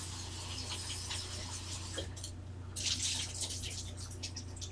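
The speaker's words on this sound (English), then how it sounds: "You just want to run cold water over them and drain that cold water back off" Cold tap water running over shrimp in a kitchen sink to rinse them, a steady close hiss and splash that surges louder near the end over a low background hum.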